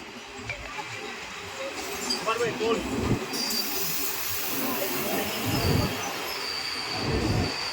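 A Mumbai CST local train runs along the tracks, a rumbling roll of wheels with hissing air and occasional metallic squeals and clanks, the noise swelling and easing as the carriage moves, heard from inside.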